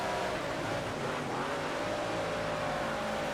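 Dirt race cars roaring around the track in World of Outlaws Dirt Racing, a steady, loud, continuous engine drone from a pack of racers on the final lap, with no talk.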